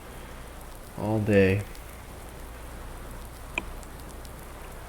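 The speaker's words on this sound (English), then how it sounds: "Well, unfortunately, it's still raining." Steady rain patters down in Farming Simulator 19, a constant wash of drops under a brief spoken phrase, with one small tick near the end.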